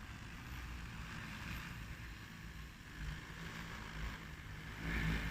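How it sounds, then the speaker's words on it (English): A JT20L-606 agricultural spraying drone flies back toward its operator outdoors. A steady broadband whir and hum continues throughout without pause and swells slightly near the end. "Now we record the breakpoint and fly drone back."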